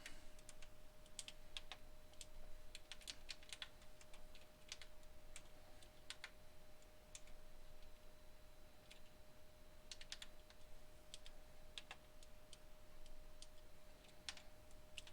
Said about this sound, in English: So the flight management computer which I'm programming in now is just essentially the brains of the plane.